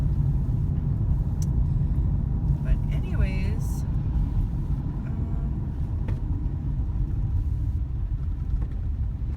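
Inside a moving Ford Escape without four-wheel drive, a steady low engine and road rumble fills the cabin, with someone talking over it.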